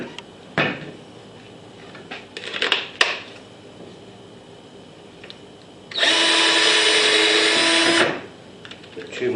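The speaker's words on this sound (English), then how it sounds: "Put 2 more screws in each corner to lock it in place." A power drill drives screws into a wooden patio swing: a couple of short knocks and clatters, then one sustained loud whirring burst of about two seconds, close by, with no talk.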